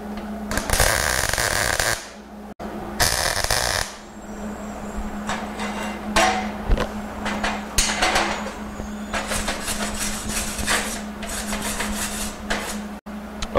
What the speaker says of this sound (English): we got both pieces tack welded together